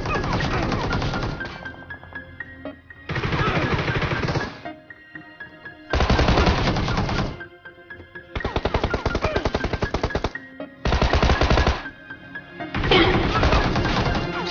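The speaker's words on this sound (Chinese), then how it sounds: "当我在游戏里被黑粉恶意狙击" Gunfire in a PUBG-style battle royale game, loud rapid bursts that come in about six separate volleys with short quiet gaps between them.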